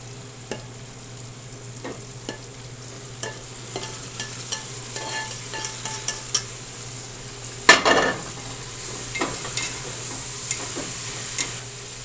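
Cooked sausage tips into a pot of frying onions and bacon for sauerkraut soup, setting off a steady sizzle under scattered clanks and scrapes of a utensil against the pot, with one sharp louder clatter midway.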